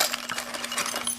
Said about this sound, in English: Let's find the keys, see what the keys look like.